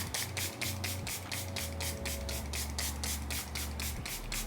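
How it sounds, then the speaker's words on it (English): A makeup setting spray bottle mists the face in about a dozen rapid, short pumps, a quick even burst of hissy puffs that sits close and fairly soft over low background hum. "And I'm going to go back in with my setting spray."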